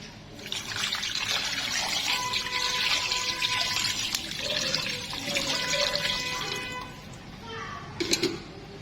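Tap water runs and splashes steadily over raw chicken wings soaking in a bowl with salt and vinegar, a continuous close trickle with a brief louder splash near the end.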